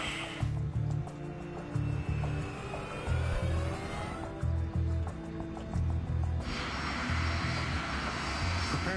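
Airliner engines building thrust on runway 36L for a Spanair McDonnell Douglas MD-82 takeoff bound for Gran Canaria, a steady loud roar with a rising whine and a repeating low thrum, no talk.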